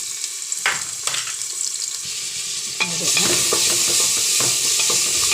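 Sliced onion and green chilies with ginger-garlic paste frying in a pan, a crackling sizzle broken by scraping stirs that swells into a louder, continuous fry partway through, with no talking.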